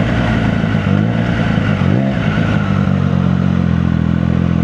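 A Triumph Daytona 660 motorcycle engine runs loud and close, a steady throaty drone with a brief rise in pitch around the middle before settling back, with no voices over it.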